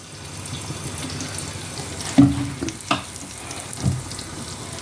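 Oil crackles and sizzles steadily in a pan, a continuous hiss broken by a few louder pops and utensil clinks, close up.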